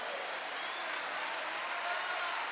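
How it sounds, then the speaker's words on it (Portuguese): Congregation applauding during a Sunday morning church service, a fairly faint, even, continuous wash of many hands clapping with no talk over it. "Vamos dar um aplauso ao Senhor."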